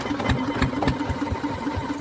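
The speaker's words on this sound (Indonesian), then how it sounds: "Nah ini mesin kompresor akan dinyalakan." A diving air compressor engine on a green mussel fishing boat at Kamal Muara, North Jakarta, runs with a steady low chugging and rhythmic knocking pulses, close and continuous with no talk.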